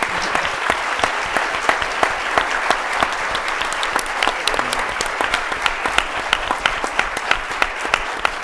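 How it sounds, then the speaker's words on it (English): A conference audience claps loudly and continuously, a dense crowd applause holding steady from start to finish without talk over it. "Let's get a big round of applause."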